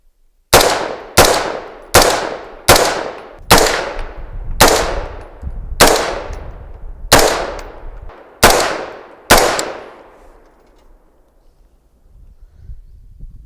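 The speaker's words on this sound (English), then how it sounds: "here's a string of 10 shots" Ten loud 5.56 rifle shots fired at an outdoor range over a chronograph, each a sharp crack with a ringing decay, spaced roughly a second apart and slowing toward the end, followed by quiet.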